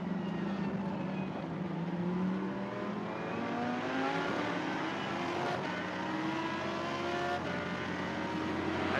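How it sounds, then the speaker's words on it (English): A Lamborghini Super Trofeo race car's engine roars on board at Sepang, heard loud and continuous with rising and falling pitch sweeps as it accelerates and shifts through the gears. "And then the roar from that engine."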